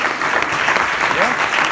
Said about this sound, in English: So please, a big applause to you guys.